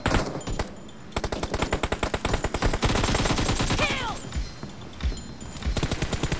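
Loud, rapid automatic gunfire in the mobile battle-royale game PUBG Mobile comes in long sustained bursts with brief pauses, close and dominant, with some voice chat underneath.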